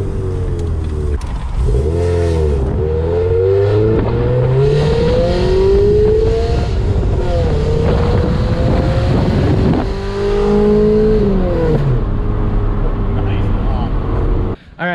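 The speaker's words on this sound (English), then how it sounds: "This is the loudest exhaust in the world" A Honda Civic with an extremely loud, bad-sounding exhaust and an oil-burning engine revs repeatedly, the raspy drone rising and falling in loud sustained pulls close to the microphone before cutting off abruptly at the end.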